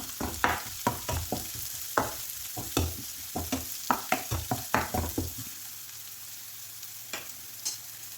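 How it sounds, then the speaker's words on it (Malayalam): A small finely chopped onion sautéing in a pan for aval upma: a soft sizzle under a quick series of scraping spatula stirs that stops partway through, leaving gentle frying, with no talking. "ഒരു ചെറിയ സവാളയാണ് അത് ചെറുതായി കട്ട് ചെയ്തിട്ടുള്ളതാണ് അതുകൂടി ഇട്ട് കൊടുക്കാം ഇട്ട് കൊടുത്ത് ഒന്ന് സോട്ടായി കൊടുക്കാം"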